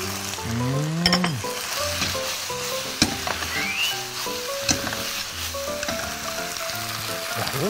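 Spicy pork stir-frying in a wok as starch slurry is stirred in, a steady loud sizzle with scraping and occasional clinks of utensil against metal, while background music plays throughout.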